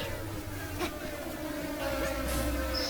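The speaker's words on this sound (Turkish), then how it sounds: "Sinek vızıltıları çok fazla." Flies buzz steadily around the player in the video game Supraland, a close, continuous whining drone with no talking.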